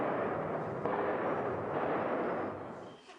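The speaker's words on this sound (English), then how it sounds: "we could hear Armenian gunners try to shoot down Azeri jets and the heavy thud" Armenian anti-aircraft guns fire at Azeri jets amid bomb blasts in the Nagorno-Karabakh war, heard through windows as a heavy, sustained roar that eases off near the end.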